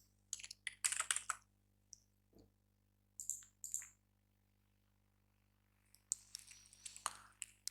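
Typing on a computer keyboard in MS Word comes as short, quiet bursts of clicky keystrokes separated by silent pauses, close-up over a faint electrical hum.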